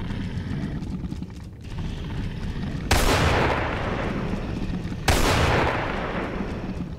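Two loud, sharp gunshots in Resident Evil 4, the first at about three seconds and the second two seconds later, each ringing out with a long decaying tail over steady game ambience.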